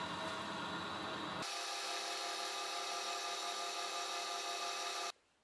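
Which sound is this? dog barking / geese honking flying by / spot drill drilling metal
spot drill drilling metal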